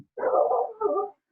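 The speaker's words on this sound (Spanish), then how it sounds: "se metió un perro" A dog lets out two close, loud howling yelps in quick succession, the first longer and the second shorter, with silence around them and no talking.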